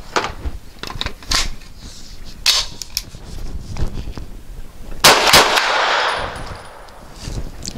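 A Grand Power Stribog SP9 A3 carbine fires Heavy Shot Heavy Duty ammunition: a few sharp, loud reports among clanks and mechanical rattling, with the strongest blast near the end.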